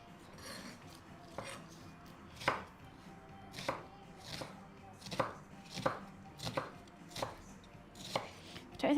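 A knife chops onions on a board while bunny chow is prepared, a dozen or so crisp, close, fairly regular strokes with no one speaking.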